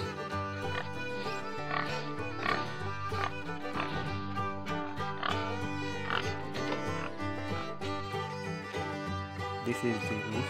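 Grunting oinks repeat through a continuous background of music, with no clear gaps.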